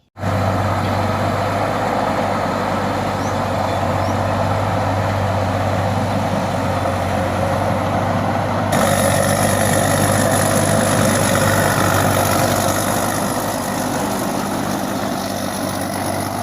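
A large tilling tractor engine idles in a rice field in a steady, loud, low drone that continues unchanged throughout.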